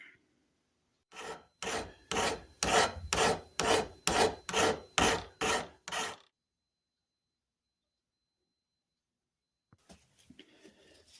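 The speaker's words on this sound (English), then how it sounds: "That's going to have to be filed and cleaned up." Close, even strokes of a file working the handle of a rusty Millers Falls hacksaw during restoration, about ten rhythmic rasping passes in a row, then silence and a few faint scrapes.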